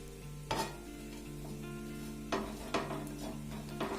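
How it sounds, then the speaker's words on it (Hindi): Almonds lightly frying in hot ghee in a pan, a soft, faint sizzle under a steady tonal hum, punctuated by several distinct spoon or pan knocks and scrapes; nobody speaks. "इसमें हम हमारे ड्राई फ्रूट्स हल्के से फ्राई कर लेंगे। तो अब मैं यहाँ पे इसमें थोड़े से बादाम डाल देती हूँ।"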